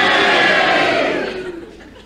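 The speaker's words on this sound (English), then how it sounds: "will you cheer?" A studio audience at a panel game roars together in a loud, sustained burst of cheering and booing that gradually fades away.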